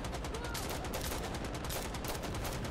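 Relentless close gunfire from the tactical shooter Insurgency Sandstorm, rapid automatic bursts packed tightly together at a constant loud level throughout, with speech mixed in.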